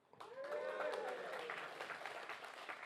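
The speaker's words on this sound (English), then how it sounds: "there's our recipients clapping very loudly." Recipients in the audience at an August business school convocation applaud loudly, a dense wash of clapping that swells quickly and holds steady, with a voice speaking faintly over it.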